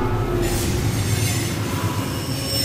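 A train rushes past in Minecraft with a loud, steady rumble, high metallic squealing of the wheels and a constant rail roar throughout.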